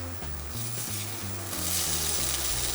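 Grated potato hash browns sizzle steadily in a hot frying pan, a continuous close crackling fry with faint low tonal hum underneath and no talk.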